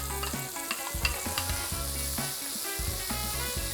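A ham sandwich mixture hits a hot pan with a steady, close sizzle and frying crackle, broken by several stirring and scraping clatters with no talk.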